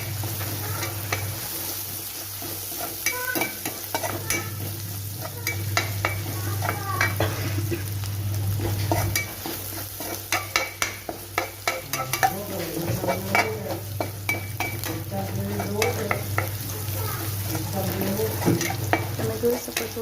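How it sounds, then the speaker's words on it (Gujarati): Onions sautéing over a low gas flame for an aubergine dish: an even, steady sizzle with a low hum behind it, and a busy patch of quick utensil scrapes and clicks partway through. "ત્યારબાદ ડુંગળી ગોલ્ડન બ્રાઉન થાય ત્યાં સુધી તેને સાતળવાની. ગેસની ફ્લેમ થોડી લો કરવાની કે જેથી ડુંગળી બળે નહીં."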